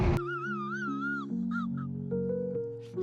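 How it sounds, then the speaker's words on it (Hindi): A Royal Enfield Hunter 350 motorcycle horn blares continuously, harsh and warbling, its wavering pitch resembling a crow's caw, loud and close. "ये हॉर्न ऐसा मोलेस्टेड कौवे जैसी आवाज़ निकाल रहा है भाई"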